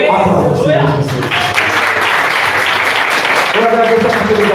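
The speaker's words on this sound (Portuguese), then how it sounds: "Aplauda o Senhor Jesus" Church congregation applauding, a continuous wash of clapping filling the room while a voice talks over it at the start and end.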